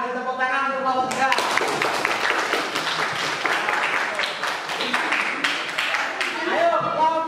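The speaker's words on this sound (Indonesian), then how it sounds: "beri tepuk tangan untuk kelompok 3" A classroom group claps steadily and densely for a student group, loud and close, lasting several seconds, with a voice speaking briefly at the start and end.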